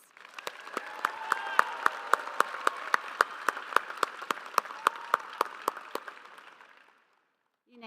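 Audience applause for engineering graduates at a university commencement, a sustained wash of crowd clapping with a few sharp individual claps, lasting about seven seconds before cutting off.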